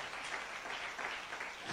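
Congregation applauding during an Easter Sunday church service in Chennai, a dense, steady patter of many hands clapping at moderate volume for under two seconds.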